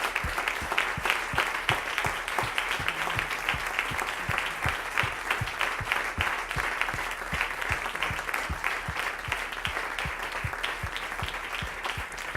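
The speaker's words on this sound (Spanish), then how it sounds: "Dele un aplauso al Señor" A church congregation claps continuously in a dense, steady round of applause that carries on without letup, with little speech.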